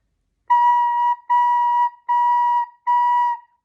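Four separate recorder notes on the same pitch, each tongued cleanly with short gaps between, played evenly and softly in an otherwise quiet room.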